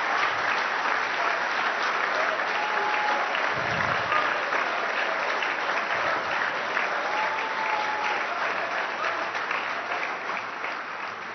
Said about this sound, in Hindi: Big round of applause.